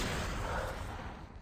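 A loud, rumbling blast fills the whole clip, a dense burst of noise that slowly fades, an explosion in the shooter game Xshot.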